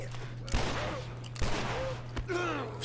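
Gunfire in The Last of Us Remastered, a few loud sharp shots spaced about a second apart over a low steady hum, with voices shouting briefly in between.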